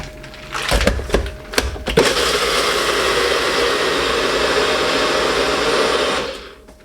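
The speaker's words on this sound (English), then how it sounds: "all I do is put the lid on and blend it up" A kitchen blender whirs up coffee after a few clunks of the lid going on. Its motor runs as a loud, steady drone for about four seconds, then winds down.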